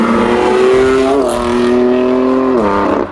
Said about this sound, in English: It's an active exhaust, so flicking the car into Sports Plus opens it up, and now every time you go near the throttle